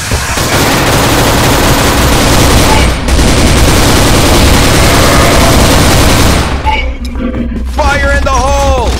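An FN M249 Minimi machine gun fires in the Crossfire video game, loud sustained bursts of rapid automatic gunfire with a brief gap, then a pause and sharper game sound effects at the end.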